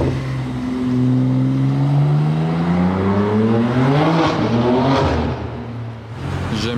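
Pagani Zonda supercar at night, its engine revving loudly close by with a rising, wavering howl that climbs and falls across several seconds before a brief dip and another burst.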